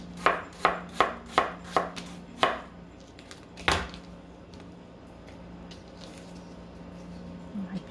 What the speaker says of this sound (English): So we're just gonna thinly slice them.